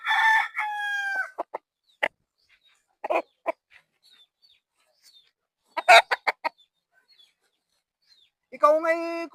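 A rooster crows loudly at the start and again at the end, with scattered clucks and short bird calls between in an otherwise quiet space.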